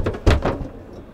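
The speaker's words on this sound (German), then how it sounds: "Du kannst die Tür richtig zumachen." A door shuts with one solid thud inside a 2022 Mercedes-Benz Sprinter 4x4 luxury camper van. A few lighter knocks and rattles come just before it, and the sound is close and loud with no talk.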